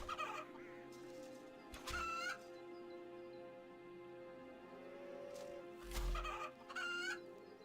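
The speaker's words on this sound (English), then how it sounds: "You can find chickens near the flax fields." Chickens in RuneScape 3 clucking in short repeated calls at irregular intervals over a low steady game-ambience hum, with soft thuds in between.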